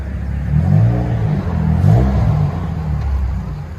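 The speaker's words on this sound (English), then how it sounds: "BMW 535i turbo" BMW 535i turbo engine revving close by, a deep throaty rumble that swells through two rising pulls and then settles into a steady growl.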